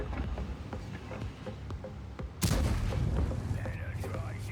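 A sudden heavy tank cannon blast from a Strv 107-12 in World of Tanks booms out midway, cutting through steady game noise and someone talking.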